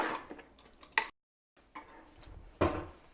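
Cutlery clinks and rattles in a home kitchen as a smaller spoon is fetched for a can of coconut milk, a few light scattered metallic knocks with a brief silent gap and one sharper clank near the end.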